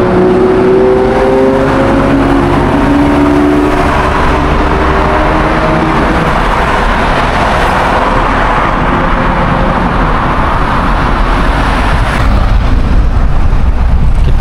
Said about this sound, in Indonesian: Situasi jalan raya, jalan antar provinsi ya ini di Jepang.